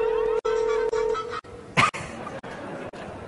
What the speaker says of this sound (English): Nice ringtone.